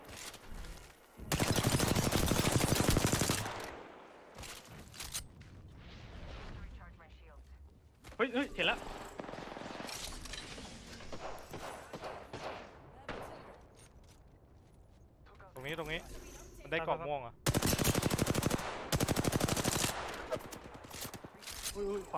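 Bursts of rapid gunfire in Apex Legends crackle loudly in long volleys, with excited players talking over and between the shots.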